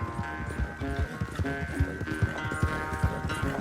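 Horse hooves clip-clop at a steady walking rhythm in Red Dead Redemption 2, close and distinct with light ambient background and no talk over it.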